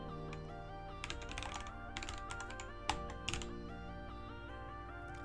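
Typing on a computer keyboard during a coding session, quick irregular clusters of key clicks with a few louder taps, close and fairly quiet over a faint steady hum.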